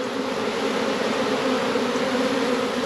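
A ground swarm of honey bees in grass drones loudly and continuously up close, a thick, even buzzing hum with no voices.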